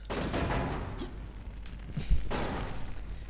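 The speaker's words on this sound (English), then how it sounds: "that bad quality explosion sound makes my pee-pee very hard" A low-quality explosion sound effect: two loud, rough, broadband blasts, the second starting with a sharp thud, each rumbling on for about a second with no voices.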